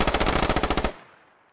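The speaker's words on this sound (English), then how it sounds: "Razgriz does not appreciate being shot at by Jenga Master" A rapid automatic burst of gunfire from the tactical shooter game Squad, roughly a dozen sharp close shots in steady rhythm, then abruptly cut off into a fading echo tail.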